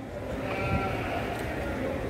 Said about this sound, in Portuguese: Já ouço o barulho. Ai, meu Deus do céu, eu não posso com ovelha.